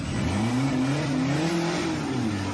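An off-road race car drives at a dirt-track racing event in Chiang Mai, its engine droning steadily and loudly with rising and falling pitch as it works through the course, with no talk.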